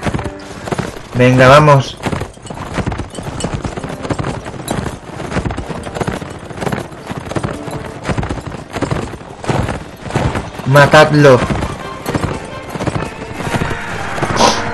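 Horses gallop in the medieval battle game Mount and Blade Warband, with rapid continuous hoofbeats, a couple of loud whinnies and battle noise, while someone talks over it.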